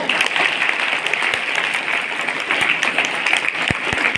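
A school audience claps together in steady, dense applause that stays loud and close for the full stretch without fading, with no talk over it.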